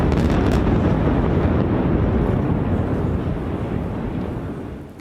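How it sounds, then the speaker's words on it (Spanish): Explosive demolition of the two remaining pillars of a collapsed bridge: a loud, broad rumbling roar from the blast, sustained throughout and slowly fading at the end. "Este es el momento exacto de la espectacular demolición de los 2 pilares de la estructura que permanecían de pie tras la tragedia"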